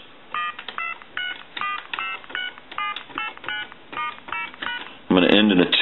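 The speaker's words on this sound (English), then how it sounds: "Go ahead and answer it, give you some dial tone. We're going to flip through his numbers." A run of short touch-tone dialing beeps in a steady, evenly spaced rhythm on a repaired Spirit of St. Louis novelty telephone, followed by a louder continuous telephone tone at the end.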